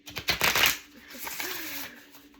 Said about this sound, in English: We shuffled it.